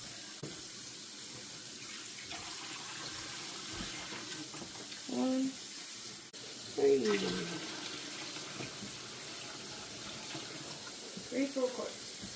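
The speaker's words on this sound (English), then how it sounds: "we're going to put 3 quarts of water in here" Three quarts of water pour from a tap into an electric pressure canner as a continuous, moderate rushing stream, with a few brief spoken words over it.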